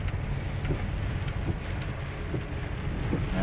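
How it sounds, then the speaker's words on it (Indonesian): Steady rain falls with wind blowing across the microphone during a road trip near Tajur Halang, Bogor, a constant broadband hiss and rumble with no voices. "Hujan turun, wah campur angin"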